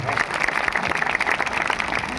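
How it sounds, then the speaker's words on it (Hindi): An audience at a Prayagraj rally claps to welcome guests, a steady dense patter of applause that carries evenly through the moment at moderate loudness. "मैं चाहता हूं कि सबको एक साथ आप सब ताली बजाकर स्वागत कर दें"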